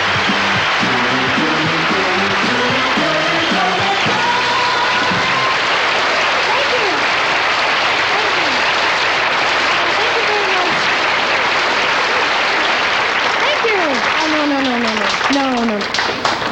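Studio audience at a TV talk show applauding loudly and continuously, a dense wash of clapping with whoops and cheers rising through it.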